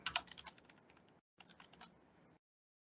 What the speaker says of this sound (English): I'm gonna hit submit, type in my credentials